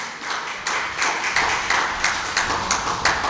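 A studio audience at a Hindi talk show claps for a woman named Sajiya, clapping in unison to a steady, even beat of about three claps per second, close and loud.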